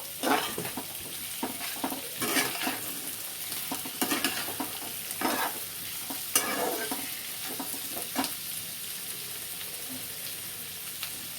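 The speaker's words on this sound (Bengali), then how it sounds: "এবার এর সঙ্গে ভালো করে নাড়তে থাকবো।" Vegetables sizzle in a pan over raised heat for a chicken stew, with a steady frying crackle and repeated scraping strokes of a spoon stirring them, close and continuous with no talking.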